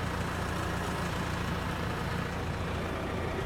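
A farm tractor engine runs in a hay field, a steady, fairly quiet low rumble that holds evenly throughout with no talking.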